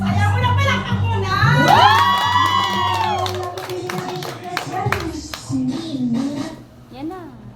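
A crowd at an Avon gathering claps and cheers, with children and adults shouting and whooping over rhythmic clapping, loud and close, while voices call out through the noise.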